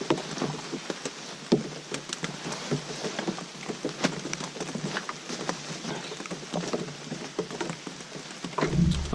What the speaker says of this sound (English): but with it raining